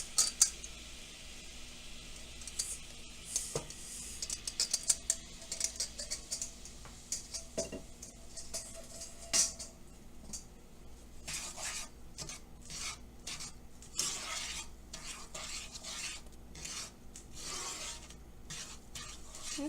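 A utensil stirs hot cocoa mix in a pot, making quiet, repeated raspy scrapes against the metal in uneven bursts, growing busier and more continuous in the second half with no voices.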